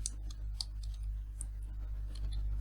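Light clicks tap on a computer keyboard while text is entered in Photoshop, scattered keystrokes in short bursts, quiet and close over a low steady hum.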